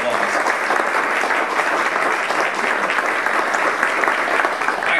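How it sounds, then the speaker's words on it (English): An audience at a marathon media conference applauds, with dense, sustained clapping that holds at a steady level throughout. "give them a round of applause"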